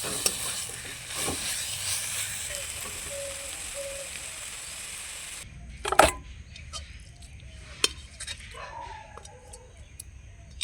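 Ground spice paste is stirred in a dry pan on a gas stove, with close scraping and light sizzling strokes. The sound then drops quieter, leaving sparse clacks and knocks of the utensil against the pan.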